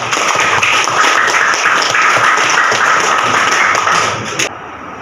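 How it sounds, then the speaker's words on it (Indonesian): Classroom applause from students after a lesson on Pancasila, a dense, steady patter of many hands clapping together close by for several seconds, thinning slightly near the end. "silakan beri tepuk tangan"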